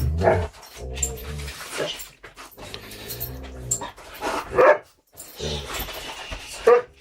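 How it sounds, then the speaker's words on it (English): An excited dog pants, whimpers and lets out several short barks close by in a room, the bursts coming in uneven clusters with brief quiet gaps between them. "Dog's just coming in being excited as well."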